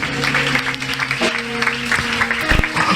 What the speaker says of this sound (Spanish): Yo creo que usted le dé un fuerte aplauso a Jesús